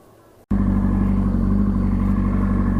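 A 636 motorcycle engine surges from a low idle into a sudden, loud, sustained hard pull after an abrupt clutch release, its close, rough drone holding steady to the end.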